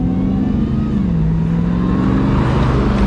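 Inside a supercharged 702 hp 2021 Ram TRX pickup, the engine drones loud and close while the truck accelerates hard to pass a car, its pitch dipping and then climbing steadily, with no talk.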